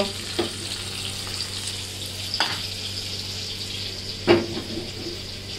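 Fried shrimp go into a bottle gourd curry with a continuous close sizzle, broken by three sharp utensil clanks spaced a couple of seconds apart, and no speech.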